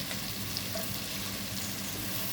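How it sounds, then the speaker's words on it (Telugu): Ivy gourds frying in oil, a faint, even sizzle that hisses steadily without breaks, heard close by with no talking. "నేనైతే ఆయిల్లోనే ఫస్ట్ అయితే ఫ్రై చేసుకుంటాను కొంచెం ఇలాగా"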